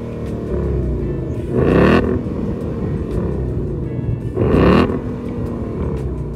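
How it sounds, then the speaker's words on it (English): A loud Ford Mustang 5.0 V8 engine idles with a deep, rumbling burble, then revs sharply twice, each rev rising into a roaring blast before dropping back. "Let's listen to the exhaust of this Mustang."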